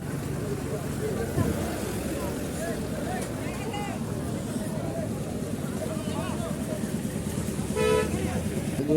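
Car horns toot in a congested traffic jam at the Gabtoli cattle market in Dhaka during the Eid sacrificial-animal sale, with a dense, continuous crowd and engine din underneath and people talking throughout.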